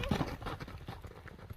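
A young racing horse gallops past. Its hooves give a quick, faint clip-clop that lasts only a moment.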